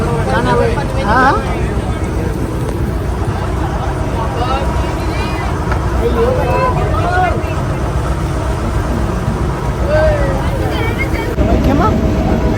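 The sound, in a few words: boat ride engine noise near Haji Ali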